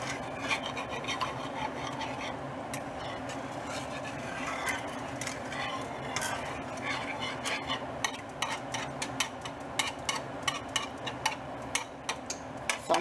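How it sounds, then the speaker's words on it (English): A spoon scrapes and rasps steadily against a pot while stirring thickening homemade banana pudding. The strokes are repeated and rhythmic, and they grow sharper and more distinct toward the end, with no one talking. "Just gonna stir."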